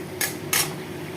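A spoon scrapes through paneer dalna, a Bengali paneer curry, in a cooking pan. There are two quick, bright scraping strokes about a third of a second apart, heard close over a low kitchen hum.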